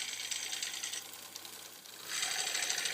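A home sewing machine runs rows of gathering stitches along the side seam of a skirt. It makes a steady, fast mechanical whirring and clicking, slows briefly in the middle, then speeds up again, close and alone.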